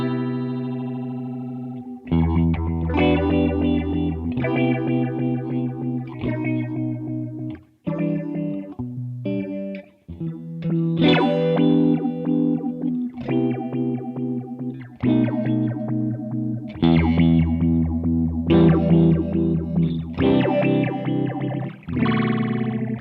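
A Behringer Bi-Phase phaser set to square-wave modulation colours a sustained, distorted instrument, its tone flipping abruptly on and off between two states in a choppy pulse, loud and continuous with no voice.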